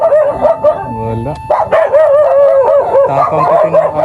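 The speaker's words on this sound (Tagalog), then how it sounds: "Tapang pati ng aso nila." A dog in a riverside rural yard where sand is gathered, giving several close, loud yips and bow-wow barks in quick bursts with a howling, whimpering edge.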